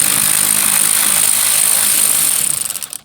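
A power tool removing screws from the grille of a 2007 Toyota Camry Hybrid, a loud high-pitched whirring drone held steady for a few seconds before it slows and sputters to a stop.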